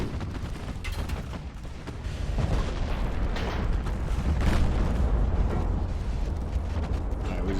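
Naval guns fire and shells strike in Ultimate Admiral: Dreadnoughts, a WW2 USA versus Japan battle, with repeated heavy booms and rumbling impacts layered over a continuous roar, a voice faintly present.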